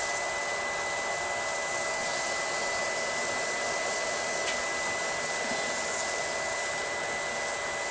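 A wood lathe spins steadily at around 900 RPM while abrasive paste finish is burnished into the turning wood, producing a constant, loud, airy whir with no breaks or voices.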